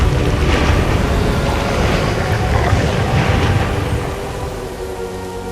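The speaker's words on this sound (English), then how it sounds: "He is doing the rain with his wand." Magical rain summoned by a wizard's wand in the Hogwarts Legacy video game, a dense, loud, steady hiss and rumble of downpour that eases slightly toward the end, with no talking.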